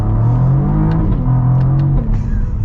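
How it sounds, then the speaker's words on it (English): A 2022 Cadillac CT4-V Blackwing accelerates hard, its exhaust a loud, close, rising roar with a brief dip that suggests a gear change before it climbs again, and no voices over it. "Okay, we got to get a fun acceleration here."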